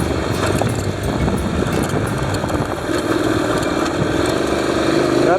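A street motorcycle is ridden on a low-grip surface, its engine droning steadily and loudly up close beneath heavy wind and road rumble, with a rising whine toward the end.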